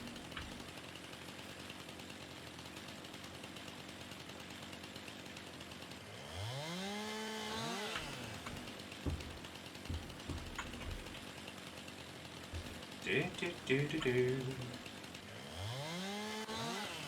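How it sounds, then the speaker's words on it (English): A chainsaw revs and cuts in Farming Simulator 19, the engine whining up and down in pitch in loud bursts over a steady low idle, with clustered revving runs around the middle and end. "Nothing like messing around with a chainsaw."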